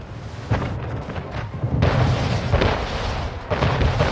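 Cannon fire in Anno 1800: a series of heavy booms, several overlapping volleys with rumbling low-end and sharp onsets roughly every second, dense and mid-distance, no talk.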